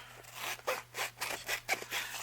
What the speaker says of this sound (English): Could have used my bigger scissors here.